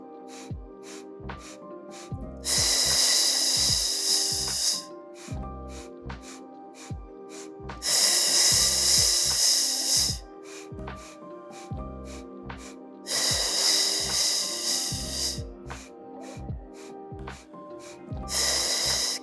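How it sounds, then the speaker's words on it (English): Steady Pilates hundred breathing, with long, loud exhales of about two and a half seconds alternating with quieter inhales of similar length, repeated over a regular ticking pulse. "So we breathe in for 5, out for 5, pulsing the arms."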